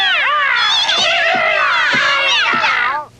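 Several cartoon cats meow and caterwaul at once in a loud, continuous chorus of wavering cries that cuts off abruptly at the end.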